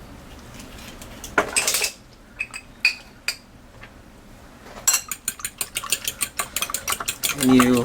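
Eggs beaten with milk, salt and pepper in a bowl for a creamy mushroom omelette, heard as rapid, close clinking taps of utensil on dish that come in scattered bursts, then a dense rhythmic run at the end, with brief talk.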